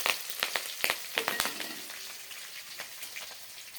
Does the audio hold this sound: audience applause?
no